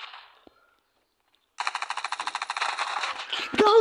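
Rapid automatic gunfire in a shooter video game, a steady burst of evenly spaced shots lasting a couple of seconds before heavier, louder blasts at the end.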